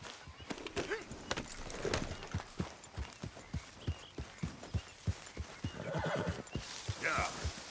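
A horse in Red Dead Redemption 2 trots with sharp, rhythmic hoofbeats close by and lets out a whinny partway through, with another neigh toward the end.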